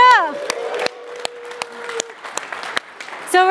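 An audience at the Remix Conf 2023 conference claps briefly after a Bhangra dance lesson. The applause is loud at first and then fades into scattered claps under a speaking voice and music.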